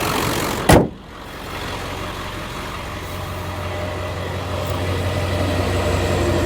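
A 2000 Ford Excursion with a 7.3L Powerstroke diesel engine idles steadily with a low, even rumble, after a brief sharp knock near the start.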